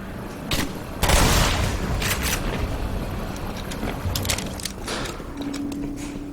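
Grenade explosions and gunfire in the video game Black Mesa: a heavy boom followed by several sharp bursts and cracks over a steady rumbling bed of combat noise, loud and close, with no talking.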